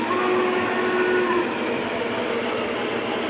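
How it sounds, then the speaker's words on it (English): An O scale model train rolls along its track in a steady, continuous mechanical rumble and whir, fairly loud and close throughout, with no talking. "Okay, we got another train coming."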